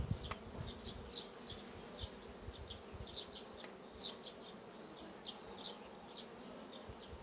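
Honeybees buzz in a soft, steady drone around hive frames, with individual bees zipping past now and then; faint and continuous, no voices.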